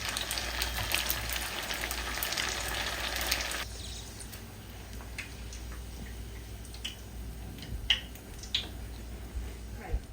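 Seafood egg rolls fry in oil with a loud, bubbling sizzle that suddenly drops to a quieter crackle about midway, followed by scattered pops and light ticks.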